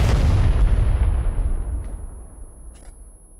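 A single heavy explosion in the video game PUBG bursts out loud and rumbles, its deep roar slowly fading over a few seconds.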